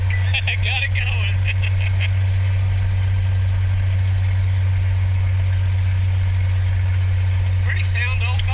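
A 1949 Chrysler engine idles after sitting over 60 years, a steady low rumble with a constant drone, while people talk in short bursts at the start and end.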